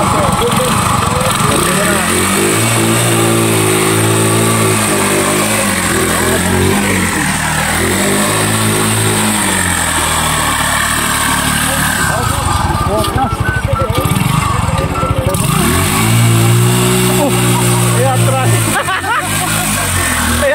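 A motorcycle tricycle reversing, its small engine revving repeatedly in loud rising and falling bursts, with nearby people talking and chattering over it.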